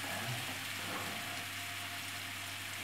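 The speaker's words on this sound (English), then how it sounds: "Now we're gonna add the shallots" Shallots frying in a hot pan as part of a pork tenderloin dish with cognac and white wine cream sauce, giving a steady, even sizzle that holds throughout.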